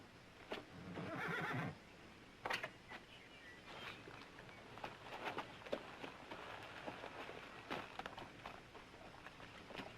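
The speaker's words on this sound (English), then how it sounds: "You ever see a better-looking cow pony?" A cow pony gives one loud, shaky whinny near the start, followed by quiet shuffling and soft hoof clops in a fairly hushed setting.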